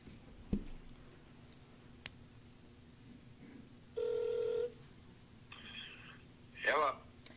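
A speakerphone dials out a call: a brief tone burst, then a couple of ringback or dial tones in steady bursts, with a few clicks and faint room noise around them.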